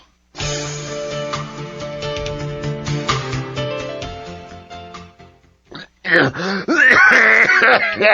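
A person with a lingering cough clears their throat in a long, rough, drawn-out rasp, followed after a short pause by a few loud, close, harsh coughs.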